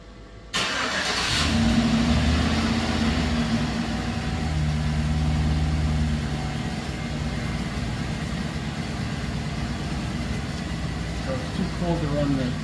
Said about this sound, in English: Start the engine and idle until 70 Celsius.